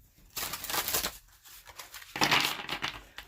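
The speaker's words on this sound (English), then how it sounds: "Very good shuffling deck" An Oracle of Visions tarot-style card deck is shuffled by hand in two quick bursts of riffling, papery crackle, close and fairly loud, with a brief pause between.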